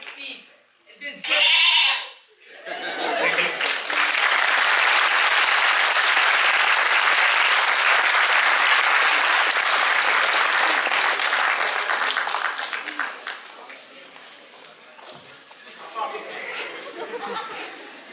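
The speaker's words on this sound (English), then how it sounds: "I think they all deserve a huge round of applause" A big audience at a live circus-style show claps after a skit, a loud sustained burst of applause that swells, holds for several seconds, then thins out with scattered claps, chuckles and voices.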